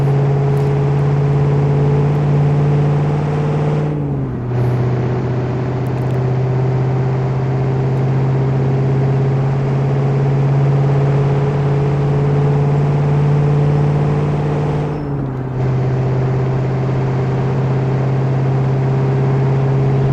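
A truck engine droning steadily while driving in the game Truck and Logistics Sim, a loud constant hum with two brief dips where gears shift.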